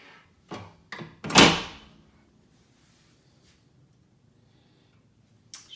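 The heavy door of a Snap Safe Super Titan XXL gun safe swings open with a few metallic clunks and a loud thunk as it moves, followed by quiet and a faint knock at the end.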